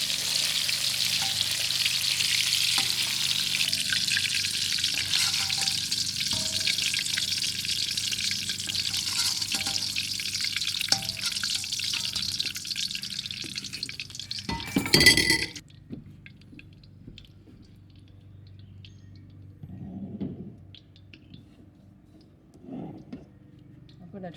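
Pork chops for Peking pork chops fry in a pan with steady bright sizzling that cuts out abruptly after a clatter, leaving quiet clinks, while a person talks throughout.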